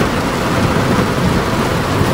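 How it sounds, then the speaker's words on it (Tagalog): Heavy rain pours in a dense, constant roar, loud and close, with a low rumble underneath and no voices. "Pinabutan na ng malakas na ulan guys"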